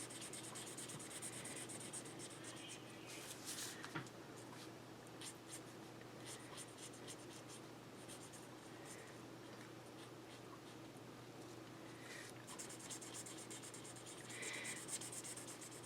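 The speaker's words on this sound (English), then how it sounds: "I'm going to continue this coloring" A pencil colouring a card makes soft, steady scratchy rubbing strokes, faint and close, continuing throughout with slight variations in pressure.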